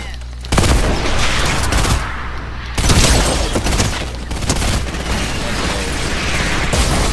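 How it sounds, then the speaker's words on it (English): Explosions and bursts of gunfire in the Fortnite video game, loud dense blasts and rattling shots that come in waves throughout. "Oh, we got bombed."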